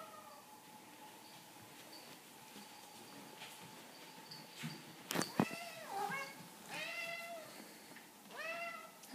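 A cat meows several times at a kitchen feeding time, the short rising calls nearby, grouped toward the end after a quiet stretch with faint background noise and a sharp clatter.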